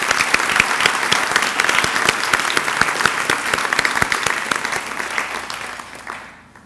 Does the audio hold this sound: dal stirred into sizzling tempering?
no